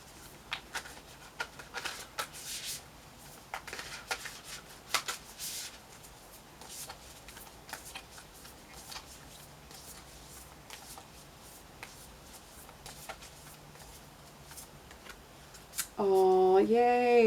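Tarot cards shuffled by hand in a series of soft riffling bursts and papery flicks, ending with a brief voice at the close.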